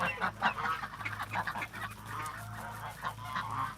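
A duckling kept in a home setting calls repeatedly in high, honking peeps, close and fairly steady over a low background hum.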